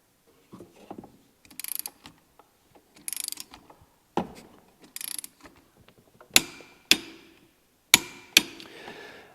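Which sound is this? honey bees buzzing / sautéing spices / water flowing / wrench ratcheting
wrench ratcheting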